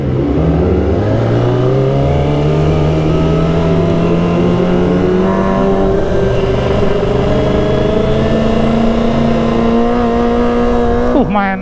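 A convoy of Kawasaki ZX25R motorcycles rev hard and close, their high-pitched engines climbing and holding in continuous loud acceleration, ending with a sharp drop as a gear changes.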